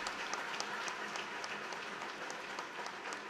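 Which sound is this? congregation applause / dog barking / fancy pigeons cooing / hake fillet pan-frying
congregation applause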